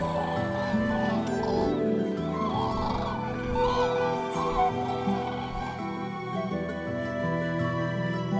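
Eurasian cranes calling while wintering among Iberian oak woods, a flock of loud trumpeting, bugling calls overlapping continuously at mid distance, with a voice speaking over them.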